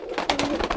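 A pigeon coos nearby in a few soft, rounded, rhythmic pulses within under a second, clear and with no voices over it.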